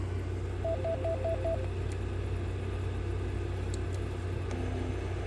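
A Yaesu FT-70D handheld radio sounds its pager notification in FM mode: a quick run of five short, clean electronic beeps, then quiet, over a constant low rumble in the background.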